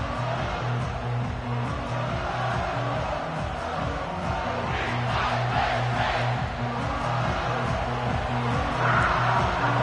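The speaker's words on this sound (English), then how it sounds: "This crowd trying to show them what it's going to be like all day in this house." A stadium crowd roars in EA Sports College Football, a dense, continuous wall of cheering with no pause, swelling slightly toward the end.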